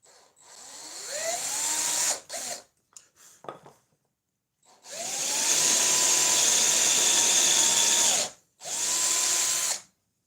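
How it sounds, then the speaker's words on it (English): A power drill whines loudly while drilling wood for a phone stand, in two long runs with a short burst between, rising in pitch as it spins up, then stopping abruptly. "you can drill that"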